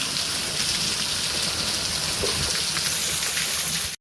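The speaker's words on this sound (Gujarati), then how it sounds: "મિત્રો ફાઇનલી આવી ગયો છે વરસાદ" Steady, heavy monsoon rain pours continuously over farmland in Gujarat at sowing time, a dense hiss of drops with a constant loud wash and no voices.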